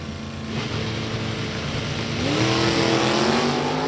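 A 1967 Chevy II and a 1969 Camaro drag racing car at a sportsnationals event roar in a loud, sustained engine drone that rises in pitch as they accelerate.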